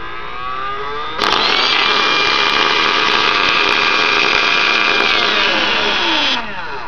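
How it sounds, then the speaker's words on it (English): A 27V DC motor, worn and nearly burned out, driven through a TIP122/TIP127 H-bridge, whirs up after a short delay into a loud, steady high-pitched spin that holds for several seconds and then cuts off. "this motor's about burned out, so it takes a second, but then it goes real quick."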